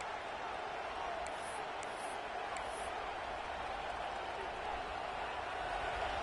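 A football stadium crowd at a Texas A&M game keeps up a steady, broad roar from start to finish, with a commentator's voice running over it.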